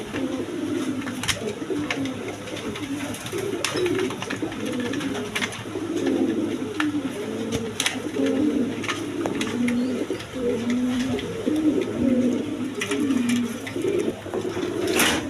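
Female pigeons of the Rasgolla breed coo in repeated soft, low, throaty phrases, close by and steady, with faint clicks and rustles between calls.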